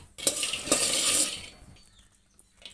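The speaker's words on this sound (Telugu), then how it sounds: "పల్లీలు వేస్తున్నానండి ఇవి వేయించుకోవాలి" Peanuts go into a dry pan on a stove for roasting, a hard rattling clatter of nuts hitting metal for about a second, then a few faint scrapes and taps as it settles.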